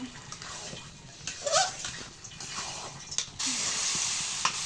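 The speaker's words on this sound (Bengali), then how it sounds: "দেখেন এগুলো এখন আমি ভালো করে কষিয়ে নিব যেন কাঁচা গন্ধটা না আসে" Chicken and spices being sautéed and stirred in a pot for chicken biryani, with a steady sizzling hiss and intermittent scraping and stirring strokes, the frying growing louder and more constant toward the end.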